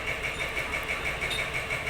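A farm tractor engine runs steadily nearby, a continuous mid-pitched chugging drone with a regular pulsing beat and no talk over it.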